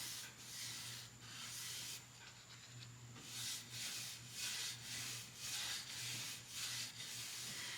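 Furniture wax is rubbed onto a wooden piece with rhythmic back-and-forth strokes, a faint, close scrubbing that repeats steadily with no talk.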